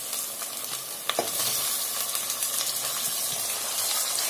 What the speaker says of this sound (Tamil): இப்ப வந்து நம்ம தக்காளி அரைஞ்சி வச்சிருக்கோம், அதை வந்து போட்டுக்கலாம்.